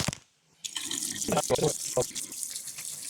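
After a brief click and a moment of silence, hot water gushes steadily from a tap into a sink, splashing continuously nearby.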